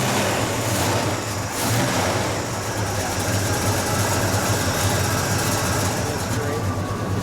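1973 Pontiac GTO with a 455 engine running: a dense, close exhaust rumble that stays steady throughout with slight rises in revs, and a voice briefly underneath.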